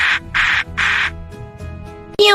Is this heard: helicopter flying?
no